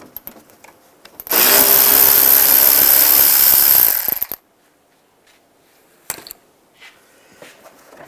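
A power tool with a 10 millimeter socket spins out a 10 millimeter bolt on a 2010-2015 Toyota Prius bumper, one loud continuous whir of about three seconds, close, followed by a few faint clicks and clinks.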